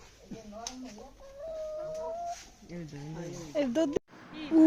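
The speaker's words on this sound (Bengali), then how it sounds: "এখন একে একে মুরগিগুলো কেটে নিবে" Chickens clucking in a village yard just before being slaughtered for a home-cooked meal, with short, close clucks mixed in among people talking.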